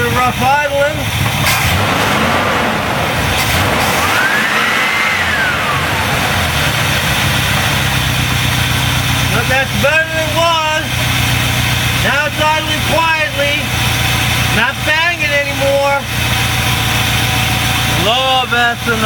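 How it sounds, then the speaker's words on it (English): A car engine with a freshly adjusted carburetor, running on ethanol fuel, idles roughly with a loud, uneven, continuous drone, while someone talks over it at intervals. "A little bit of rough idling."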